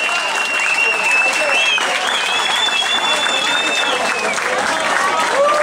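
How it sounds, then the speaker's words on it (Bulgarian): Loud, dense applause from an audience at an award ceremony after a sambo match, continuous clapping with whistles and cheers cutting through. "Аплодисменти!"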